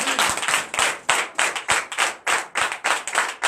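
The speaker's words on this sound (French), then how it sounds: "Donnez l'acclamation à Jésus." A church congregation claps in a steady, rhythmic beat, close and crisp, with no talking over it.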